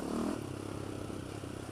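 A Polaris Outlaw 525 ATV rumbles steadily as it is ridden, a mid-pitched engine drone with rattling clatter from bumpy ground, close and continuous for a brief moment.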